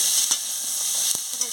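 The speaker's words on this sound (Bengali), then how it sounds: "আলুটাকেও ভালো করে একটু ভেজে নেব।" Potato pieces frying in oil make a continuous soft, high sizzle with a few light taps and scrapes from stirring, fairly close and even throughout.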